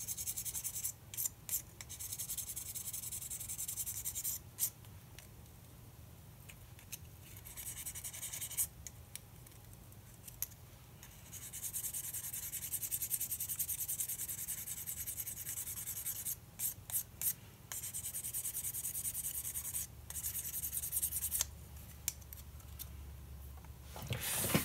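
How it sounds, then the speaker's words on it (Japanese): Steady fine rasping of 1000-grit sandpaper rubbed back and forth on a plastic model car, in long strokes broken by brief pauses, close and fairly quiet. "使うのはですね、1000番の紙やすりで、要するに平らになるように"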